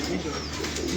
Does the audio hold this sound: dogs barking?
no